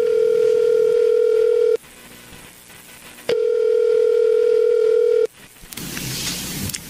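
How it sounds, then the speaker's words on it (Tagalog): A steady telephone dial tone plays in two long bursts separated by a short gap, with a brief noisy click and hiss after the second, used as an effect in a Tagalog radio drama while a call is placed. "Kaya tatawagan ko na siya."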